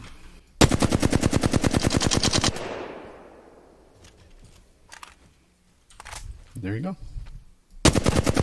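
Flatline rifle fired in a video game: a long rapid automatic burst lasting about two seconds, with a ringing tail, then quiet clicks and a brief spoken remark, before another sustained burst at the end.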